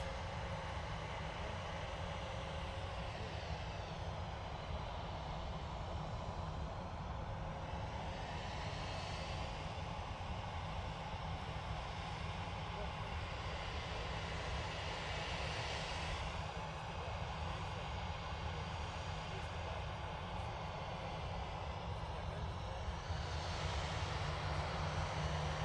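Ryanair jet airliner powering up for takeoff at Manchester Airport, a steady distant engine roar with slow swelling whooshes, heard alone without talk.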